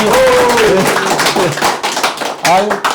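Applause greets a preliminary candidate for Namyangju-si Byeong in Gyeonggi during an on-site interview; a burst of claps runs beneath people talking.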